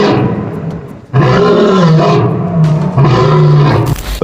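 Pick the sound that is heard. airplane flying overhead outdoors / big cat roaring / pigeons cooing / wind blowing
big cat roaring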